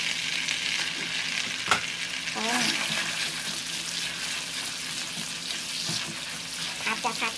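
Prawns stir-fried with roasted chili paste in a pan, a steady bright sizzle with repeated clacks and scrapes of a spatula, a soft voice briefly heard in the background.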